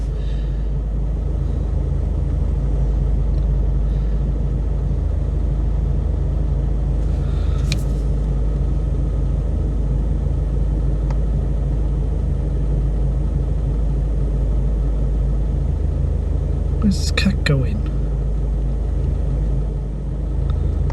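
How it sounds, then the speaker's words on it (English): Road traffic passing on a street, a steady low rumble of car engines held throughout, with brief louder swishes of nearby vehicles around the middle and near the end; a person speaks occasionally over it. "there's traffic now"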